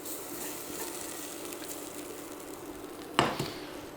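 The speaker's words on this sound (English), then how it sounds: "I'm going to tip that into the frying pan." Food tipped from a saucepan into a hot frying pan, a steady sizzle and frying hiss with a sharp scrape and splash near the end as it lands, close and fairly loud.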